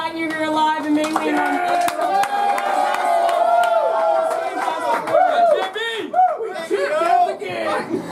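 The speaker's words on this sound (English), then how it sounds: "big round of applause for your guides who got you here alive" A group of river rafters at an overnight Gauley River camp cheer and clap for their guides, a near burst of whoops, shouts and applause mixed with voices that gradually thins into scattered calls.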